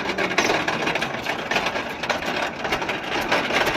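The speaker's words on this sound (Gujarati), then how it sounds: "હલર તો મેં હાલે છે ટ્રેક્ટર દબાય છે પણ હાલે તો છે" A tractor-driven thresher processing millet in a field runs continuously, a loud dense rattling and grinding roar with steady mechanical churning throughout and no pauses.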